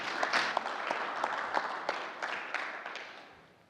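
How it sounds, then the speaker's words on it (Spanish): A crowd at a maritime logistics conference talk applauds with scattered, sharp claps that build briefly and then gradually fade out, with no talking. "Por favor, un aplauso para Juan Carlos Paz Cárdenas."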